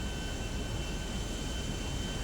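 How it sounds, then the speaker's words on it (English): Steady, even jet-engine roar of a Buckingham Miljet, a 16-seat private jet in Grand Theft Auto Online, droning continuously at moderate level with no voices. "that is the Buckingham Miljet, which is the new 16-seat jet available in Grand Theft Auto Online"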